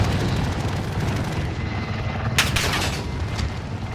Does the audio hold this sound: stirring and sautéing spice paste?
no